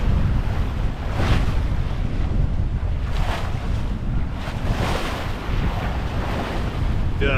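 Steady wind and rushing water surround a sailboat under way toward Tampa Bay in 10 to 15 knot winds at 6 to 8 knots, with continuous broadband wash and gusty wind noise buffeting the microphone throughout.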